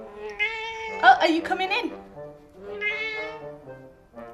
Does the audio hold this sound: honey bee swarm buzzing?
no